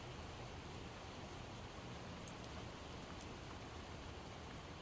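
Steady rain falls in the Project Zomboid video game, an even, continuous patter of drops hissing on surfaces with a few brief sharper drips and no talking.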